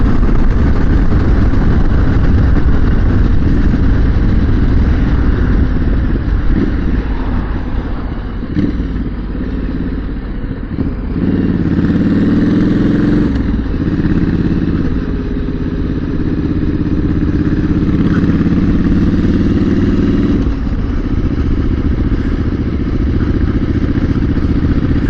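A British-brand motorcycle built in Thailand being ridden, its engine a steady, loud, close drone with wind rush and slight shifts in pitch as it holds speed, no voices.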